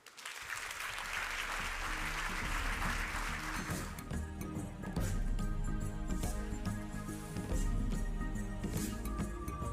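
Audience applause after a talk at the CSOS Indaba 2025 conference, a sustained crowd of many hands clapping, building quickly and holding steady for several seconds with no voices.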